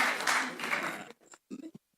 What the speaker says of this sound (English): let me now ask you one more time to give them applause as they walk back to take their seats